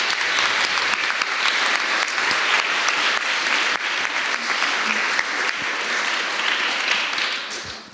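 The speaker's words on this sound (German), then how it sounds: "einen herzlichen Applaus" A room of people at a youth hackathon final presentation in Dresden gives sustained, dense applause for their mentor, loud and steady throughout before it begins to fade at the very end.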